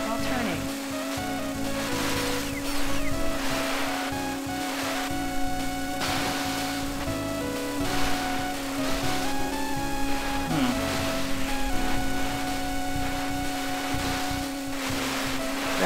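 Jet ski in the Wave Race 64 video game skimming over waves, a constant buzzing engine drone with surging splashes and slapping water, loud and continuous under game music and a voice speaking.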